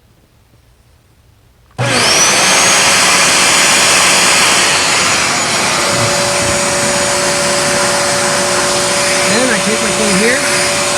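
A Bissell Spot Clean Professional portable carpet cleaner switches on after a quiet moment and runs as a loud, steady motor roar with a high whine, while someone talks briefly over it.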